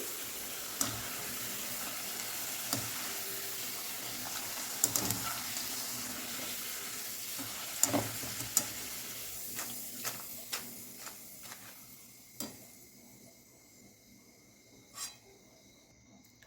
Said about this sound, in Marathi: चिप्स छान फ्राय झालेले आहेत मी काढून घेते